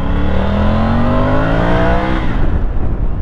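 A Triumph Tiger 900 motorcycle pulls at low revs while being ridden, its engine note a loud, close drone that rises steadily in pitch for about two seconds before the tone breaks up and settles.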